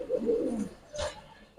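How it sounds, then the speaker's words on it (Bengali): Pigeons coo in two soft, close throaty phrases over a brief moment. "এই হচ্ছে 4 পেয়ার কবুতর"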